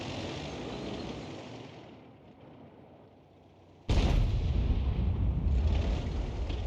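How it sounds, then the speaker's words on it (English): Artillery shells from allied self-propelled guns crash down in a tank battle video game, a rumbling roar that dips and then bursts into a louder, heavy boom around the middle, sustained and close. "You can hear the shells coming in from the other Arty on our team, the MX-13AM and the gorilla."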